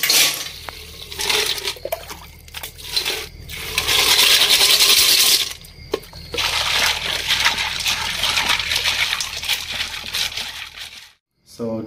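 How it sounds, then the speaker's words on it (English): River snails being rinsed and rubbed in water for a village-style dish, a busy wet clattering of shells and splashing that runs steadily through most of the clip, with faint voices underneath. "So let's go and wash this."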